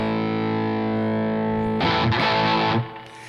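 An electric guitar runs through a Wampler Brent Mason ReWired overdrive pedal with the gain pushed up, a sustained crunchy chord ringing before a burst of strummed, distorted notes that cuts off and fades.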